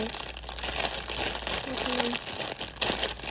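Plastic packaging of a Labubu blind box crinkles and rustles softly in close, intermittent bursts, with a voice talking over the handling.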